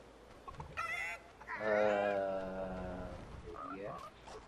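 A chicken in the Fortnite video game clucks and squawks in drawn-out, honking calls, fairly quiet and close, with a brief burst of human speech near the start.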